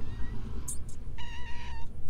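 A cat meows twice in quick succession, a short high call followed by a longer tonal meow, fairly close over soft outdoor background noise with no talking.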